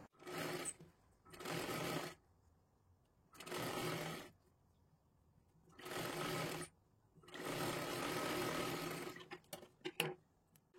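A sewing machine stitches the lower hem of a tucked blouse in bursts, whirring for a second or two, pausing, then running again, with one longer run near the end and light clicks of handling between.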